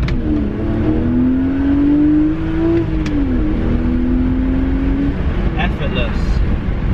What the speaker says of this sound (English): hopefully you can try and get an indicator of what the exhaust sounds like